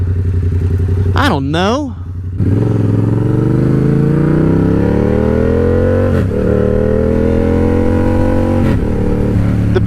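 A Yamaha R7 motorcycle engine revving while riding, loud and close, with a quick rising rev and a drop during a shift, then a long steady climb in pitch under brief bits of talk.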